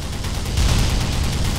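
Loud, continuous barrage of booming tank gunfire and explosions in the video game Black Mesa, dense and sustained throughout with no pauses.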